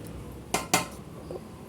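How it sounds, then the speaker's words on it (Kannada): A metal pot is set down for tempering a mango pickle, giving two sharp clinking knocks in quick succession and then a faint clatter, heard clearly with no talking. "ನಂತರ ಇಲ್ಲಿ ಒಗ್ಗರಣೆಗೆ ಪಾತ್ರೆಯನ್ನು ಇಟ್ಟಿದ್ದೀವಿ"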